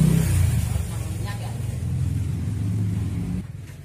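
A car engine runs with a steady low rumble after its thermostat was replaced, in a vehicle that is hard to start when cold, idling close up throughout with a slight rise and fall in revs, and talk over the top.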